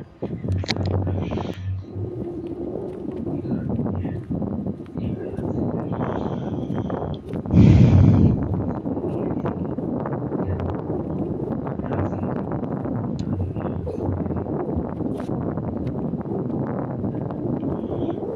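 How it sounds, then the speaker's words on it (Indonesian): Steady wind blows across open sea near sunset on a trip out to an offshore tomb, a continuous loud rush with a sharp gust-like burst partway through, heard on its own without talk. "Angin berhembus sepoi-sepoi dan matahari hampir terbenam."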